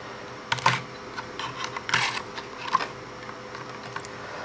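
A hard drive caddy slides into a 2012 Mac Mini during a second-drive upgrade, giving a few light plastic-and-metal clicks and brief scraping taps, close and sparse, with no one speaking.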